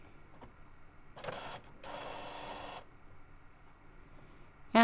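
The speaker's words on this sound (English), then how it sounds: "this was to show you what it sounds like when it prints" An Epson EcoTank ET-3760 inkjet printer prints quietly indoors: faint whirring, a short mechanical burst, then a longer carriage pass. A brief louder click or beep lands at the very end.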